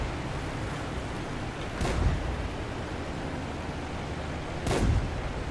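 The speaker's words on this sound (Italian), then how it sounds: "Come spara questo cannone?" Two heavy booming cannon shots from tanks in the game World of Tanks, a few seconds apart, each a short loud blast over a constant dense noise bed.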